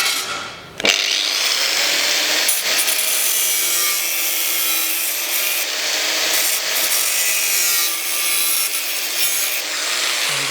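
A continuous loud cutting noise from a power tool working a metal panel during Sunbeam Rapier fabrication, harsh and steady with a brief pause near the start and slight dips along the way, no voices.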